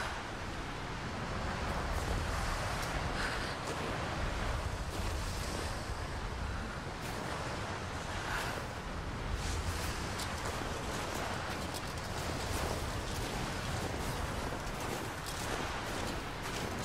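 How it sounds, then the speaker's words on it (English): Strong mountain wind roars steadily across a summit in Rise of the Tomb Raider, a dense, continuous rushing gust with no let-up for the whole stretch. "This wind is crazy."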